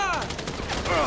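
Gunfire in a heist shootout in GTA 5 story mode, with dense bursts of shots crackling over a continuous din and some voices mixed in.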